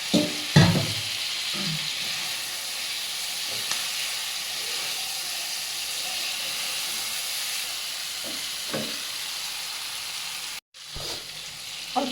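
Eggs go into fried spice masala in a pan, a steady close sizzle and hiss with a few clinks of utensils against the pan.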